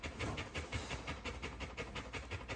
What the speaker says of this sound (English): Listening to the train go by.